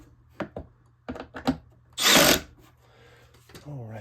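A power drill briefly whirs for about half a second as it tightens screws on a vehicle center console. Short tapping and handling noises come before it, and someone speaks at the end.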